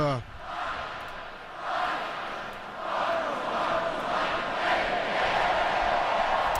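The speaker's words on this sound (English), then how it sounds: "Now the crowd's been kind of a silent roar here." A stadium crowd roars steadily at a Miami Hurricanes vs Texas A&M college football game, a dense, sustained wash of distant voices that swells and settles in waves, with faint talk mixed in.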